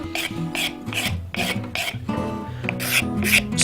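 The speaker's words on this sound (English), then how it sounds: "If you just scrape it horizontally like that across the surface of the wood, it has the same effect." A utility knife blade scrapes horizontally across a wood surface in about eight quick rasping strokes, each a close, gritty scratch in an even back-and-forth rhythm.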